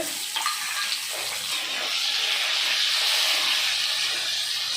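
Tomatoes go into hot oil with fried potatoes and whole spices for a jackfruit and prawn curry, giving a loud, continuous close-up hiss of frying with no talk.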